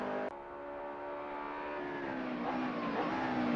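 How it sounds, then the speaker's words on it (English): A McLaren race car speeding past a Bentley on a racetrack: a sustained, rising engine whine that builds steadily, with a sharp click near the start. "Flying past the Bentley, the McLaren is a bullet on wheels."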